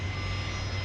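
A business jet's engines hum and whine steadily at Dallas Love Field, a continuous mid-distance drone with a low rumble and a faint high whine, with no voices.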